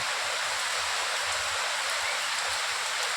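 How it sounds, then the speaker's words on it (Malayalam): Heavy, nonstop rain pours in front of a house during a downpour in Thrissur, Kerala, making a dense, steady hiss with no break and no voices. "നിർത്താത്ത മഴ. പെരുമഴ എന്ന് പറഞ്ഞാൽ പെരുമഴ"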